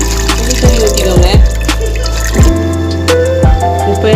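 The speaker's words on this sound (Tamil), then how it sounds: "தண்ணி ஊற்றிக்கோங்க." Water poured into a pan of dried fish curry with coconut paste, turmeric and salt, heard as a few distinct splashing drips and pours in quick bursts, close and fairly loud.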